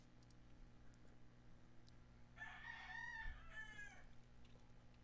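A rooster crows once at moderate distance, a drawn-out call over a faint steady background hum with no talk.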